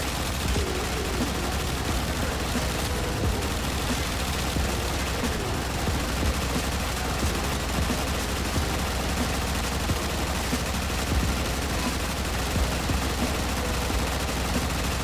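Pistol gunfire from the video game Warframe fires in a rapid, unbroken stream of loud shots, dense and continuous throughout alongside busy in-game combat noise.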